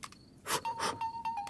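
A steady electronic ringtone sounds, broken by short bursts of rustling noise.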